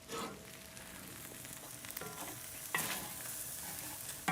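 Paella rice in a pan over a BBQ grill sizzles and simmers with a steady close hiss, punctuated by a few scraping knocks against the pan.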